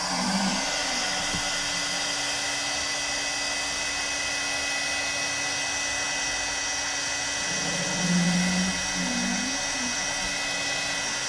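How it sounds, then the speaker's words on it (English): A heat gun blows steadily on a tumbler cup, a continuous close whooshing hum with a faint whine that swells slightly as the gun is moved, with no talk over it. "You just want to keep your heat moving, because otherwise it'll like start to smoke on your cup"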